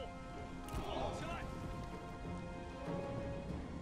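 Rain falling in the strategy game Total War: Three Kingdoms, a continuous hiss of rainfall with low rumbling, and someone talking over it.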